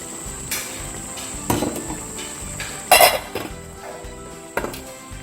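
Locust beans and crayfish stirred into egusi in a cooking pot, with sharp metal spoon scrapes and clanks against the pot at irregular moments, one louder clatter midway.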